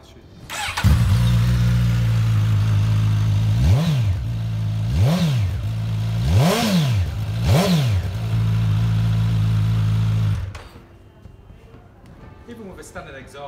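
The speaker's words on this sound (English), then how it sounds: "Even with a standard exhaust, sounds absolutely cracking." A 2017 Suzuki GSX-S1000F motorcycle on its standard exhaust starts and idles loudly up close, blipped through four sharp revs before cutting off, leaving quiet room sound.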